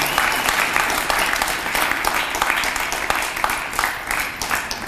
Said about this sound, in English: So I think a round of applause to a visionary man.